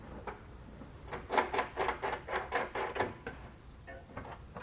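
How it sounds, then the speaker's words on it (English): Flange nuts are spun by hand onto a Curt trailer hitch being fitted to a 2020 Subaru Forester, a quick run of close, rhythmic metallic scraping and clicking strokes at a moderate level, with no talking. "We're going to take a flange nut, get it started. You want to make sure to get at least one on each side, hand tight."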